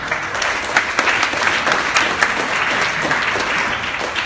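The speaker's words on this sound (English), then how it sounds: "Big round of applause for that" Audience at a startup pitch night giving a big round of applause, dense steady clapping filling the room, loud and continuous throughout.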